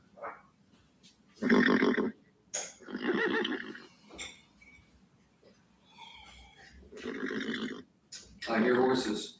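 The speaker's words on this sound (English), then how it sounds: "I hear horses." Several horse neighs and whinnies ring out in bursts across the stretch, loud and close, separated by quieter gaps with faint breathing and hoof sounds.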